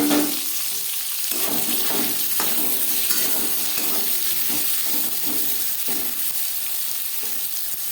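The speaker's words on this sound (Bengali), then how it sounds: "পেঁয়াজ টমেটো হালকা করে ভাজা হয়ে গেছে।" Onions and tomatoes fry in refined oil in a kadai that was used to fry potatoes for chicken biryani, making a steady, close sizzle with repeated stirring scrapes and no talking.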